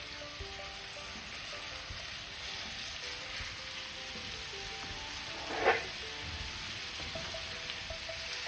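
Meat browning in oil in a paella pan, a steady soft sizzle running throughout with one brief louder clink or stir partway through, fairly faint and with no talking.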